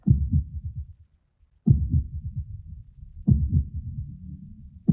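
Slow, heavy heartbeats thud at long, even intervals, each a deep rumbling throb that trails off before the next, with brief silence between.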